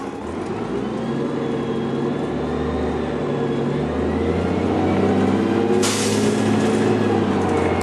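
An old, rattly TriMet bus rumbles along with a steady low engine drone, a loose mechanical rattle and a brief burst of air hiss partway through, and no one speaking.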